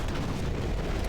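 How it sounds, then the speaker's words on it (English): A grenade goes off in Doom 3 in a dense, roaring blast with deep rumble, loud and sustained across the short moment without any speech. "Have a grenade. Have another grenade."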